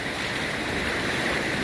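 Rushing floodwater current streams past while someone crosses a flooded area with a bike, a dense, steady roar of moving water that stays loud and unbroken throughout with no talking.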